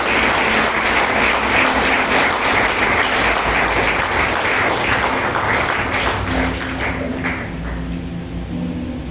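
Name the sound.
church congregation applauding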